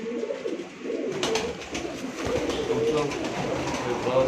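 Sialkoti pigeons coo softly on a rooftop loft, a low, steady murmur of calls that grows slightly busier partway through, with voices talking nearby.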